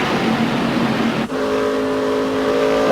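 Mark Martin's race car at the 1998 Pennsylvania 500 drones loudly at steady high revs, broken by a brief dip near the middle before the engine note settles into a sustained, even whine.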